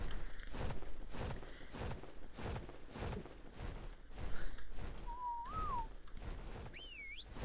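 A whistle command sounds in the game ARK, a short rising-and-falling tone followed by a higher wavering whistle near the end, over steady rhythmic footsteps and game ambience.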